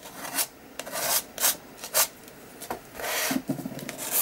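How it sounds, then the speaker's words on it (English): A spatula scrapes paint across an art journal page in short, separate rasping strokes, close and fairly quiet, with pauses between them. "I've got a spatula and I'm going to scrape it"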